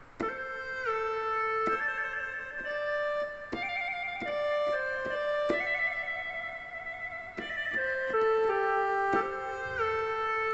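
A Korg PA-700 keyboard's Thai pi oboe voice, reedy and nasal, plays a melodic line, notes shifting steadily with a slightly buzzy tone, alone without talk.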